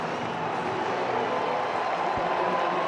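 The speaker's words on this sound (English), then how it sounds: "The whole crowd here is chanting Ozzy's name." A baseball stadium crowd at a White Sox home opener roars in a dense, continuous wash of sound, loud and steady throughout, with chanting voices blurred into the mass of cheering.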